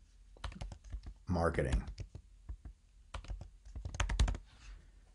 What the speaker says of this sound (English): I'm gonna type in network